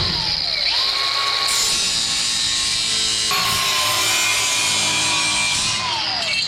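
A big angle grinder cutting a metal welding cube, with a loud continuous whine that dips briefly mid-cut and then resumes, close and alone.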